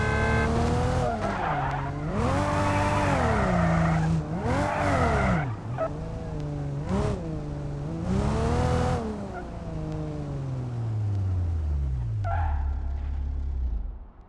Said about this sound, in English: going for a drift ride in the bus